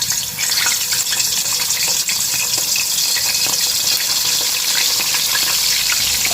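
Fish frying in hot oil, a loud, steady, dense sizzle that stays close and continuous with no talk over it.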